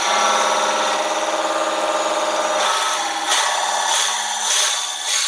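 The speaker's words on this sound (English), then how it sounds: "So we're going to drill down to about 10 mil deep." A drill bores into wood spinning on a wood lathe, a loud, steady whirring hum with a grinding, rubbing edge, close up, with no talk.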